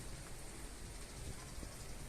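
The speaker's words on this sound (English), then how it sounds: "I think this is a heavy rain." A constant soft roar of heavy rain pours onto a rooftop with potted plants under a roof, an even wash of drops with no one speaking.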